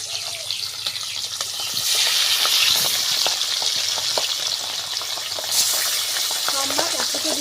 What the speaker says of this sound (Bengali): প্রথমে 3টে মাছ ভাজা হোক, তারপরে বাকি মাছগুলো আমি ভেজে নেব।